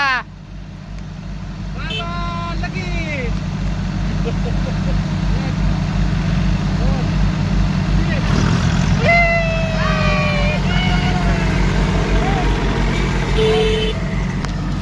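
Swaraj Target, Kubota and Farmtrac tractor engines run at about 2000 rpm, a loud, steady diesel drone overlaid with whistling, horn-like tones while people talk nearby.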